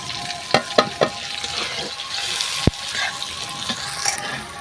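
Around 400 grams of chopped onion going into hot oil for chicken korma, with a few soft thumps at first, then a continuous close sizzle and one sharp clink of a utensil against the pan.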